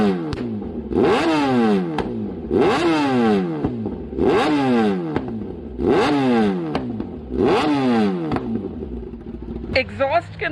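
Kawasaki ZX-10R liter-class motorcycle fitted with a MotoGP exhaust, revved hard five times in a steady rhythm, each blip rising and falling loud and close, then a short burst of clatter at the end.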